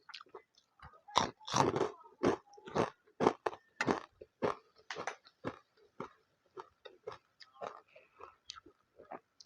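Crispy pork rinds crunched up close, with a rapid, irregular series of sharp bites and chewing crackles that continue throughout.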